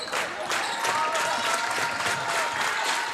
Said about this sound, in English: the crowd's getting into it here